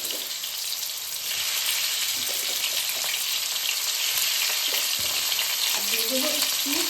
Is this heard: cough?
no